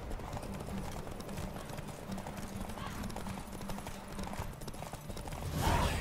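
Roach, Geralt's horse in The Witcher 3, gallops in a steady rapid clip-clop of hooves during a race, loud and continuous with game music underneath, swelling louder near the end.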